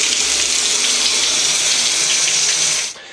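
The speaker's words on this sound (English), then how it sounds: "we're going to start rinsing all this stuff off." Water gushes steadily from a tap while a bathtub is rinsed, a loud continuous hissing flow close by that cuts off abruptly near the end.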